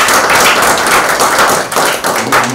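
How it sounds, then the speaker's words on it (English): Toastmasters club members in Nyeri clap for themselves, a dense, steady burst of group applause held at full loudness throughout, close and lively with no talk over it. "Clap for yourself."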